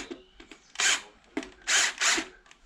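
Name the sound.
battery drill driving a screw into motorbike tyre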